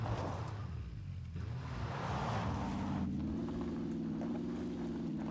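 A car engine drones steadily while driving in PUBG Battlegrounds, its pitch rising as the vehicle speeds up, with wind-like rushing noise over a low rumble and no voices.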